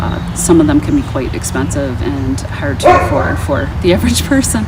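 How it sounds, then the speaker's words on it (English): A dog barks and yips repeatedly, a run of short close barks with some whimpering, heard under and between a person speaking indoors. "Sorry about my dog."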